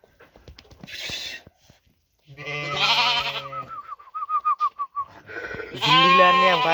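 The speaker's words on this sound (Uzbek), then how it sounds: "shunaqa toza qo'ylarni boqar ekanlar" Well-kept sheep bleat close by in a series of loud, wavering calls, with a short fluttering call midway and a final strong bleat; quieter rustling and other farm noise fill the gaps.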